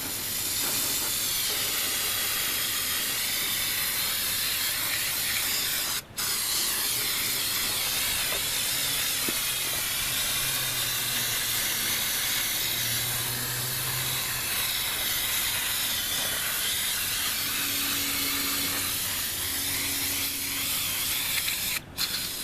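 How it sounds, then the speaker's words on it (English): A continuous aerosol spray of brake cleaner hisses loudly and close onto a Lexus GS400 valve cover for the whole stretch, broken only by a couple of brief pauses. "get some brake cleaner and just spray the valve cover off."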